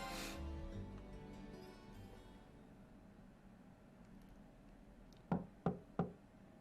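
Three sharp knocks on a door in the video game Trails of Cold Steel come in quick, evenly spaced succession near the end, following a quiet stretch of faint background music.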